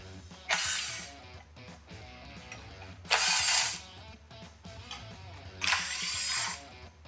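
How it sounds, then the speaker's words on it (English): A power tool undoes 10mm bolts from the aluminum underbody structure of a Lexus GX460, giving three separate loud bursts of whirring spaced a few seconds apart, with quieter mechanical rattling between them. "we just have 3 10mm bolts right here. We'll unbolt those"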